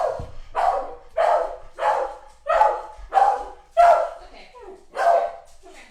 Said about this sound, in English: now we have Winston barking because someone has knocked on my door